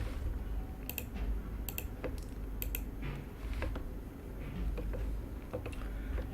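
Computer keyboard typing nearby: several quick bursts of light key clicks with brief pauses between, faint and alone over a low room hum.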